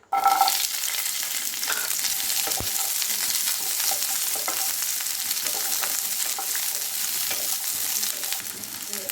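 Small onions sautéing in a pan for onion chutney, a dense, steady crackling sizzle that holds evenly throughout, close up with occasional soft clicks of a utensil and no voices.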